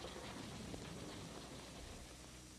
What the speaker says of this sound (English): the expanding air causes the sound